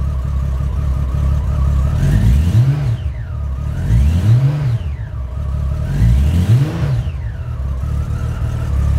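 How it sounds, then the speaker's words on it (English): A 2000 Honda GL1500 motorcycle engine runs loud and close after a cold start, holding a steady throaty drone while its pitch repeatedly swells and falls. "That's a cold startup on this exceptional bike from Honda."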